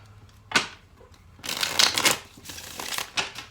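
Tarot cards riffle and slap as they are shuffled and drawn during a reading, a sharp burst followed by longer rustling shuffles and flicks, close and fairly loud, with no speech.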